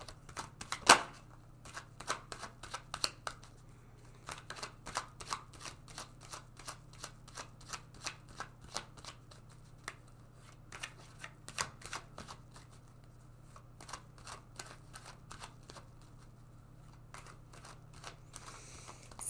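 Tarot cards being shuffled by hand, heard as a long run of crisp, rapid riffling bursts with a steady rhythm and short pauses, close and fairly quiet, with no talking.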